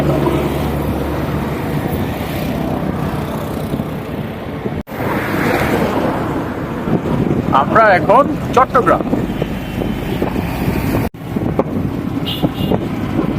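Strong wind buffets the microphone on the Karnaphuli river bridge in Chattogram, where ships pass below. It makes a constant loud rumbling roar, and a person speaks over it partway through.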